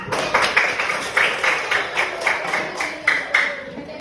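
Classmates give a short round of rhythmic clapping for a student during an elementary science lesson on food chains, a group clapping together in steady, evenly spaced beats with some background murmur.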